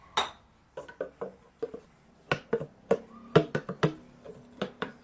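A spoon scrapes stuck turmeric out of a container, giving quick irregular taps and clinks, close and crisp, with short gaps between strokes.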